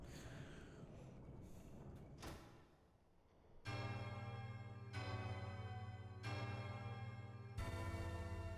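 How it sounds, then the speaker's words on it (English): Repeated bell tolls in Hollow Knight: Silksong, four sustained, ringing strikes spaced about a second and a half apart, each with a rich harmonic tone that lingers into the next, following a quieter stretch of game ambience. "It's the first bell."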